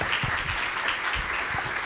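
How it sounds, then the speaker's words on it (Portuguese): A conference audience applauds its speakers in a steady, moderately loud patter of clapping that fills the hall without voices over it. "Uma salva de palmas aos nossos palestrantes."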